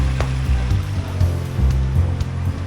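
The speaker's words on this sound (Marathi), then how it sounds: "आपण ऐकू शकता वाहता पाण्याच्या मधुस्वर" A stream flows down from the Marleshwar waterfall in the hills near Devrukh, Ratnagiri, a continuous close rushing of water with a low steady rumble beneath it.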